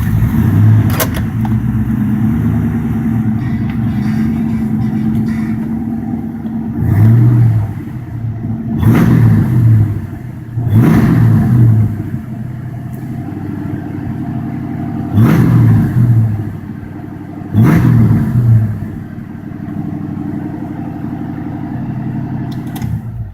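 A New Edge Mustang GT engine with an IAC restrictor plate idles loudly up close, broken by five sharp throttle blips that rev up and fall back quickly to idle, spaced a few seconds apart.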